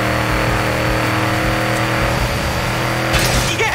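A truck engine in the video game Forza Horizon 5 revs hard and steadily with a deep, droning roar that holds for several seconds, then surges briefly near the end.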